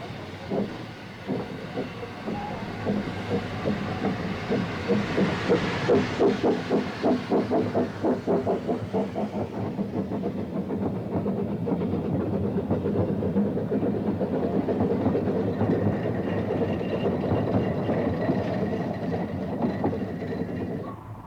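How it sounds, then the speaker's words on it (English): Ffestiniog Railway steam locomotives Chaloner, number 1, and Britomart arrive hauling a slate train on the narrow-gauge line, a steady close rumble of rolling wagons and clanking running gear with soft steam hiss, continuous throughout. "Chaloner, number 1, and Britomart arrive with the Slate train, which allows Prince to return to Porthmadog."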